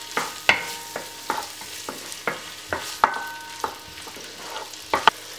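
Chopped ham frying in a pan with a soft continuous sizzle, broken by regular utensil scrapes and light taps against the pan, close and fairly loud with no talking.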